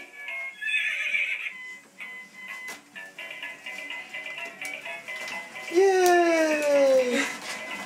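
A toy ride-on horse gives out a recorded neigh and a long descending whinny, with an adult's voice and a small child's babbling heard between the sounds in a room nearby.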